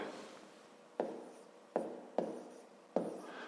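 Chalk or marker writing on a classroom board during a fifth-grade math lesson: four distinct tapping strokes, each followed by a fading scrape, close and clear in a quiet room with no talk.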